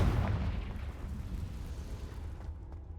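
The Confringo fire spell in Hogwarts Legacy bursts with a heavy, booming blast that rumbles loudly at first, then fades into a low roar.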